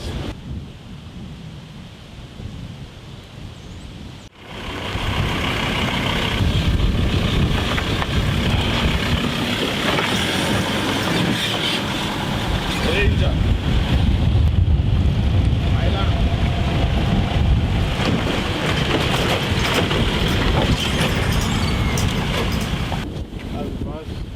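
Strong wind beside the Breede River at Malgas buffets the microphone in a steady roar, with a rushing, boat-like rumble underneath and voices talking briefly.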